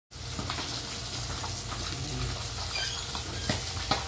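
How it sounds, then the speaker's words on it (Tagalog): Milkfish (bangus) frying in a pan, a steady dense sizzle of hot oil with faint clinks and stirring, no talk. "Samahan nyo ako sa pagluluto ng piniritong bangos."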